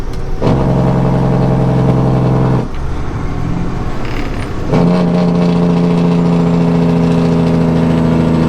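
A 1998 International 9200i truck engine runs loud and close with a strong mid-range growl. It drops away briefly to a rougher, quieter idle and then surges back at full strength.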